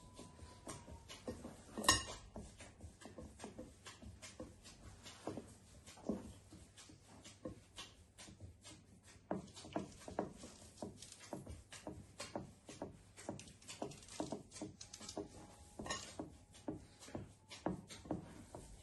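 Burger mixture being mixed by hand in a bowl, with a steady run of soft squelching and clinking strokes that continue throughout, moderately close and with no talking.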